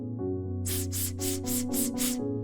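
Six separated hissing S breaths in a female vocal power warm-up exercise, evenly spaced bursts of breathy hiss over a sustained low background tone, each short and distinct with gaps between them.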